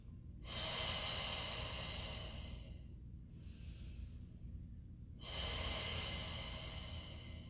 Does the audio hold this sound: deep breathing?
yes